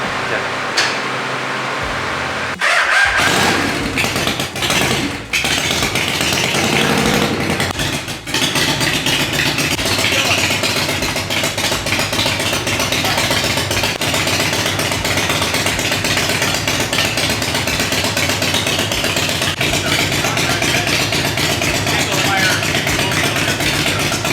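An Evo-engined chopper motorcycle fires up after a brief crank and settles into a loud, steady, rumbling idle that runs on close by.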